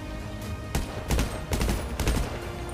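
Gunfire during a SWAT raid in GTA V roleplay: several loud bursts of automatic shots in quick succession, clustered in short volleys over a steady background, with no talk.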